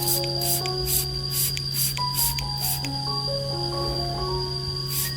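Short hissing bursts from a spray bottle misting peace lily leaves repeat in a quick, even rhythm, about eight puffs, over steady background music.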